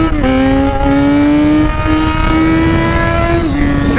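Yamaha XJ6 motorcycle engine revving close up, a loud sustained roar that climbs steadily in pitch, dips briefly and rises again for about four seconds with no talk over it.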